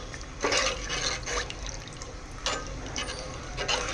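Buttermilk curry (majjiga pulusu) with bajji fritters stirred in a pot, giving wet sloshing and liquid swirls in repeated strokes, soft and close, with no voices.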